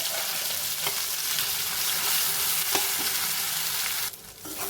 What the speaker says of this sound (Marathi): आता हा हे जे कॉर्न आहे ते छान परतून घ्यायचे